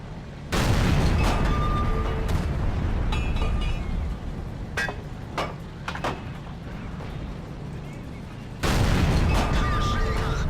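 Tank cannons fire in a World of Tanks-style battle game: a loud, booming shot opens the clip and a second heavy blast lands near the end. Quieter sharp clicks and thuds fall in between.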